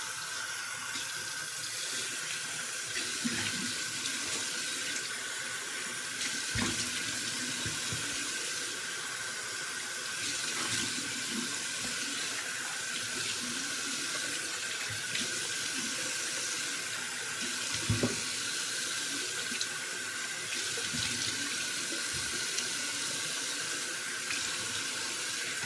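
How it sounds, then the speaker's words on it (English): Steady stream of tap water running into a sink while someone rinses their face, a soft continuous hiss with occasional faint splashes and knocks, fairly quiet and close. "time to rinse"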